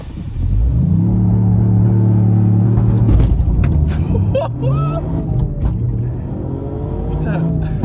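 A stage 3 Toyota Yaris GR accelerates hard from close inside the car, its engine note climbing steadily and then easing off into rumbling, while people talk and exclaim over it.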